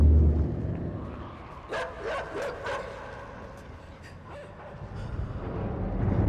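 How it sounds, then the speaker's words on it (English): Feral dogs in the video game Inside give a handful of short barks and yips in quick succession near the middle, over a low rumbling ambience, then a fainter bark follows. "I think those might just be feral dogs."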